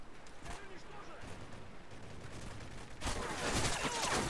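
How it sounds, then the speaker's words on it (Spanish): Gunfire in Modern Warfare 3 multiplayer, a burst of shots that swells into a louder, denser volley near the end, with a voice talking over it. "¿Qué estáis disparando, tío?"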